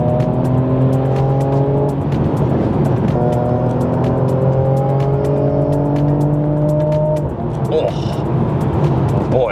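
A Mercedes-AMG C43 engine revs hard under acceleration, climbing through rising gear pulls with brief shift breaks, loud and close from inside the car, then easing off near the end.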